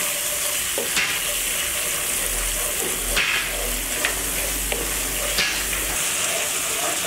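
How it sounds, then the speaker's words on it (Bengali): Spice paste for a deshi-style chicken curry sizzles and fries in a pan, with steady sizzling under repeated stirring scrapes and a few sharp utensil knocks, close and continuous. "আমি একটু কষিয়ে নেব।"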